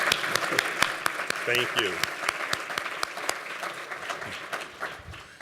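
Audience applauding school principals at a superintendent's address, a steady burst of clapping with a few sharp individual claps, a short spoken thanks in the middle.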